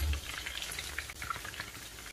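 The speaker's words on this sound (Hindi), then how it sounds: "जब तक हमारे सोयाबीन के पकौड़े फ्राई हो रहे हैं" Soya chunk pakoras bubble in hot frying oil, giving a soft, continuous crackling sizzle that stays fairly quiet and even throughout.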